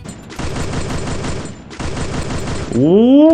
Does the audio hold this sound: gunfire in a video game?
yes